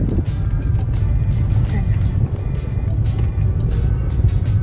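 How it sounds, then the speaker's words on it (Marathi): Slow road traffic crawling through a jam in Karad during a rainy-season journey, with a steady close rumble of car and truck engines filling the whole stretch and brief voices mixed in. "अर्धा तास झाला आम्ही कराडच्या ट्रॅफिकमध्येच आहोत"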